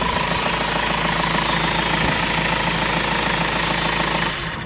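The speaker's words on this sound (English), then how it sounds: "You can hear the engine running" A 2.5 DCI diesel engine in a 2004 Renault Master MK2 van idles nearby with a steady low rumble and rapid rhythmic knocking, airbox off, cutting out at the very end.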